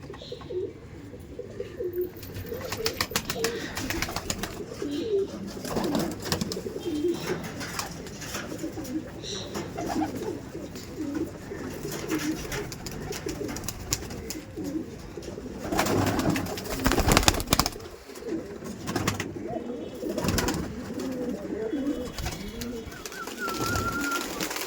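Pigeons coo steadily in a loft of birds kept for sale, a dense low chorus of overlapping calls close by, with scattered chirps, wing flaps and brief movement noises throughout.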